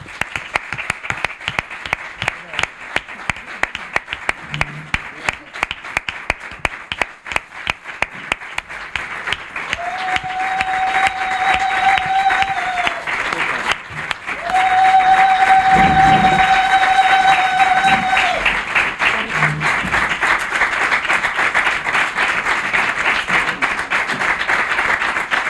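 An audience at a tribute ceremony claps steadily for about twenty-five seconds in dense, even applause that swells louder midway, while a high electronic tone sounds twice over it.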